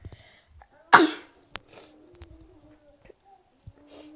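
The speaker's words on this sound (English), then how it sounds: "Excuse me a second, I'm gonna sneeze." A single loud, sharp burst near the microphone, like a sneeze or cough, followed by a few faint clicks and soft breathy rustles in an otherwise quiet room.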